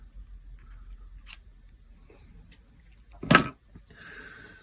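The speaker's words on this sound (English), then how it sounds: "Cut off your tag end." Scissors snip the tag end off a freshly tied snell knot on fishing line, one short sharp cut near the end, heard alone in a quiet room after a few faint handling clicks.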